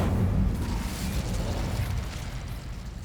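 A fiery Incendio spell cast in Hogwarts Legacy bursts out as a dense, rumbling whoosh of flame, loud and close, holding steady for a few seconds with a low boom underneath.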